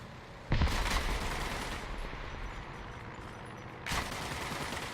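Tank gun fire aimed at aircraft in a video game, with the barrel pinned up for air defense: a sudden loud blast followed by a sustained rumbling burst, then a second burst near the end.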